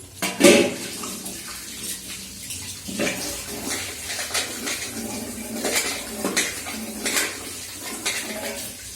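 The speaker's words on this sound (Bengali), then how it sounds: "ধুয়ে নিই" Dishes, pots and cutlery being washed under running water at a kitchen sink, with steady splashing and repeated clinks and clatters of utensils knocking together, close and moderately loud throughout.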